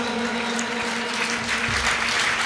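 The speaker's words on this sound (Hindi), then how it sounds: "तालियां। जोरदार।" Applause from the audience at a Jain honour ceremony held during a shravak sanskar camp in Itarsi, heard as steady broadband clapping with a low hum running underneath.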